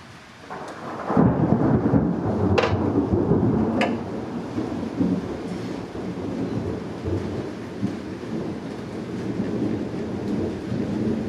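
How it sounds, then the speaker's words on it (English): Thunder rumbles through a storm, breaking into a loud rolling crash after a second and then a long low grumble that fades under steady rain, with a couple of sharp cracks along the way. "just waiting for that big crack of thunder right above our heads"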